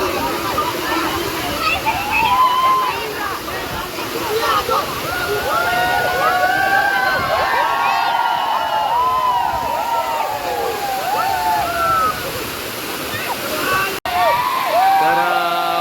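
Manche waterfall in Konkan roars as a loud, constant rush of falling water, with several people talking and calling over it throughout.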